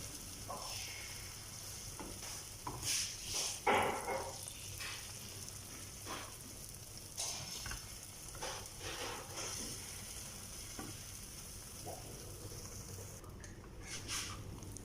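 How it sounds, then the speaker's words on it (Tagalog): Thin crepe batter sizzles and fries in a pan, a soft steady crackle with occasional scraping and clinks of a utensil against the pan, quiet and close, with no talking. "crepe is very thin. We have to cook it for this one 1 minute each side."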